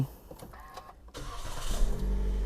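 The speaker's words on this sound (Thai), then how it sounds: "เหยียบเบรกปุ๊บ กดปุ่ม" A 2019 Toyota Vios 1.5 High is started with its push button. A quiet cabin hush gives way to a low engine rumble that swells and settles into a steady idle.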